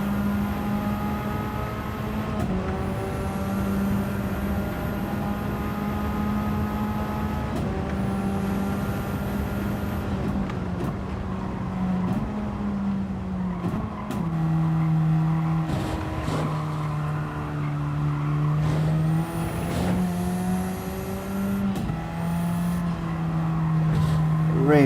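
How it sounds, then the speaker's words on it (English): Race car engine in Gran Turismo 7 working down through the gears, revs rising and falling in steps as the car slows and turns into a corner, loud and continuous, with a voice talking over it. "just coming all the way down the gears just to get this car slowed and rotated"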